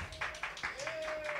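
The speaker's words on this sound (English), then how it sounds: "give yourself a round of applause for coming out tonight" Audience clapping at a live podcast recording in a bar, a short burst of scattered claps rising and overlapping, with a voice running over it.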